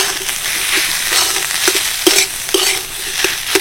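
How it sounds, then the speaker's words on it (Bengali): A spoon stirs and scrapes an onion snack filling with salt, turmeric and chopped coriander as it dries in a pan. The gritty scraping is loud and close, with a soft sizzle and a few sharper clinks against the metal. "শুধুমাত্র একটু নেড়ে চেড়ে শুকনো শুকনো করে নিলেই পুরটা রেডি হয়ে যাবে"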